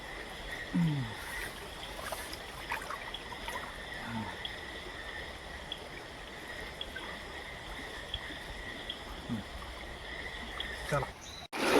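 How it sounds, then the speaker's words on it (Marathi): Steady broadband rush of a flowing river current, continuous throughout with faint bird calls and scattered small noises on top. "तुम्ही बघू शकता नदीला प्रवाह किती आहे."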